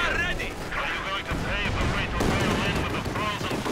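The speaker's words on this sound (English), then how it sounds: "And a quick strafing run there" A strafing run in Company of Heroes 2 brings a dense rattle of gunfire and rumbling impacts. A commentator's voice talks over the battle throughout.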